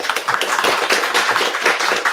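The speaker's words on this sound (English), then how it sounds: "Give him a big round of applause, please." Applause from a crowd, a steady wash of many hands clapping at once, fairly loud and continuous with no voices over it.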